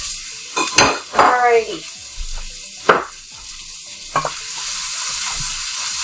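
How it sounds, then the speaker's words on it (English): Onions for a dairy-free butternut squash soup soften in a Dutch oven. Soft sizzling runs under a few sharp utensil scrapes and stirs, and a voice speaks briefly. "cook these for a few minutes, the onions for a few minutes to let them soften"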